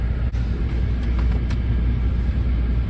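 A Chevy Blazer called the MechaBlazer is driven along, giving a steady low rumble of road and engine noise throughout with no voices.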